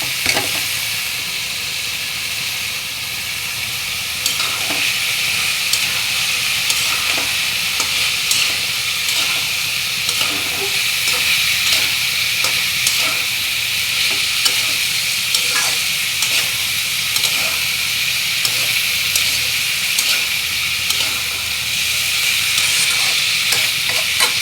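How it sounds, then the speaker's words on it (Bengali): Dried fish and plenty of garlic stir-fried with potatoes give a steady, dense sizzle close by, with frequent scraping stirs breaking through, and there is no talk throughout. "শুটকিটা ভালো করে কষাই দিতেছি।"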